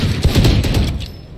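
Gunfire in the competitive shooter Valorant during a tournament match, a dense, loud burst of overlapping shots and impacts filling the clip before tailing off.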